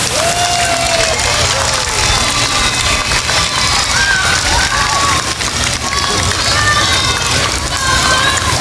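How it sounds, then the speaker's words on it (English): A school audience at a Golden Oak assembly cheers loudly for a second-grade student, a steady, dense roar of young voices, shouts and clapping that holds throughout. "Wow, what a cheering section"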